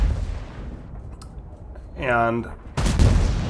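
A single heavy tank cannon shot in World of Tanks, a sudden loud boom cutting in near the end after a stretch of quieter game sound and a short voiced tone.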